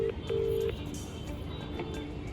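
A phone call ringing out unanswered: a clear ringback tone repeats twice at the start, close and steady, followed by quieter line hiss with faint tonal traces.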